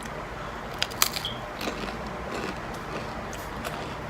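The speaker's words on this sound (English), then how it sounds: "I'm eating this piece of bread." Someone bites into a crunchy piece of bread crust, giving several sharp crackling crunches over a steady background hiss, close and fairly soft, with no talking.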